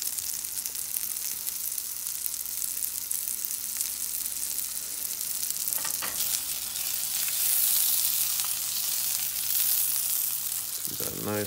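Hot dogs fry in a layer of butter in a pan, a steady, close crackling sizzle that swells briefly midway with a few pops, continuing throughout without talk.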